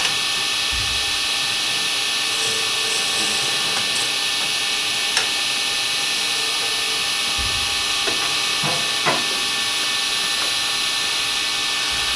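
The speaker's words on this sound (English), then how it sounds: "this is where we're going to drill an 1/8 inch hole for our finial" A drill runs steadily as it bores an eighth-inch hole into turned wood to seat a finial, a loud continuous whine with a few faint clicks and knocks and no speech.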